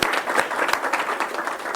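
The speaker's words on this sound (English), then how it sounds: "Let's give him a round of applause." A high school audience gives a short burst of applause for the Student of the Month, a 12th grader from Indian Springs High School, with brisk, fairly distant clapping throughout.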